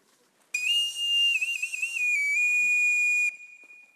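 A dog-calling whistle used to summon dogs down from a mountain gives one long, steady, shrill tone lasting about three seconds with slight pitch wavers, clear and alone in a quiet outdoor setting.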